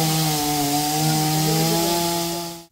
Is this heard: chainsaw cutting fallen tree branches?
yes